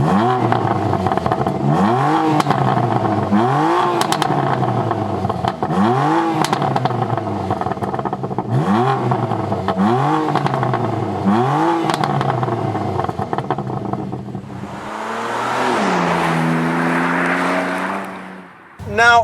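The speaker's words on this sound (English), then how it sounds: "You want to hear how this sounds?" BMW M2 Competition with the S55 engine, exhaust revved repeatedly in rhythmic bursts that rise and fall, followed by a longer sustained rev with crackle, loud and close.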